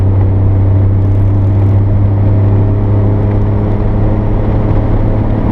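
A 1991 Honda Acty Street kei van engine droning steadily in fifth gear, a loud, constant low hum with road rumble that holds even throughout with no breaks.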